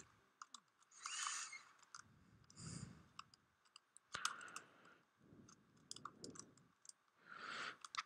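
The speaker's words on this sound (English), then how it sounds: "Keyboard noise. I can hear still." Quiet computer keyboard typing comes in scattered bursts of light clicks and clacks, separated by short pauses, with no voices.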